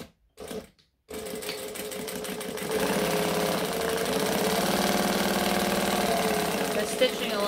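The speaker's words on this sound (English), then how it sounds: "Stitching along, you can hear how thick that vinyl is, can't you?" A sewing machine stitches a joining seam through thick vinyl, running steadily and loudly for several seconds after a couple of brief starts and a short pause.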